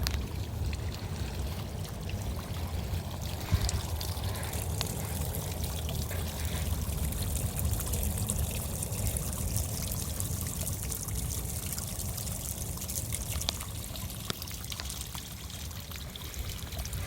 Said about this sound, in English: Bubbling up right back there.